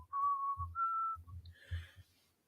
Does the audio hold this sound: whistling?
yes